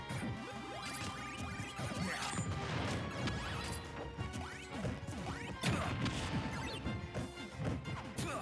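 C4 explosion in a video game crew battle, a loud crashing blast with scattered debris and smashing impacts, dense and chaotic over continuous game noise.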